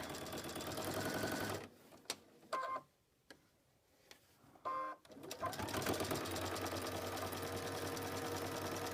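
A sewing machine stitches quilt pieces in steady runs at the start and end, broken by a quieter pause with a few clicks and clunks in the middle.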